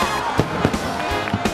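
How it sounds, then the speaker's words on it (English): Fireworks bursting over Charleston's Battery during a December holiday boat parade, with repeated sharp booms and crackles in quick succession over a constant roaring background. "watch an amazing fireworks display fill the sky over a crazy fun holiday boat parade"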